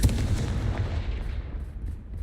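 Confringo fire spell from the Hogwarts Legacy video game, exploding with a heavy, rumbling boom and a deep low roar that rolls on and slowly fades.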